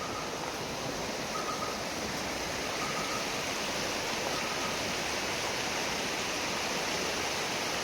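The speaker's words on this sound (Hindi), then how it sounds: "क्यारी की नदी है।" Steady broadband rush of a river flowing near Kyari village in Jim Corbett, a continuous close roar of water with no talking over it.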